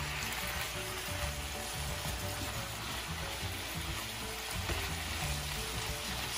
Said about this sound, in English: So we are going to sear them for like 3 or 4 minutes